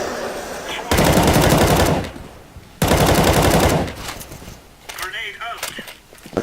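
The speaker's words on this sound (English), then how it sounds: "Quick shots to smoke from Tabson" Two long bursts of rapid automatic gunfire from the Counter-Strike map Inferno in a pro match, each lasting about a second, followed by a shorter crackle and a whooshing effect, with commentator talk between and after.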